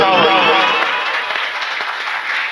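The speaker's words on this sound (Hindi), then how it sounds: "डोगर में जोर जोर ताली बजाओ" Loud, dense applause from a crowd at a religious gathering in Chhattisgarh, a steady wash of clapping that stays even throughout, with possible voices mixed in.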